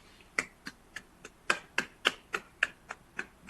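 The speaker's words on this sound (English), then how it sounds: "please join me in a round of applause for our county's frontline workers" A round of applause at a county board meeting for the county's frontline workers comes through as a short run of sparse, evenly spaced claps, a few crisp hits per second at moderate loudness with no voices over them.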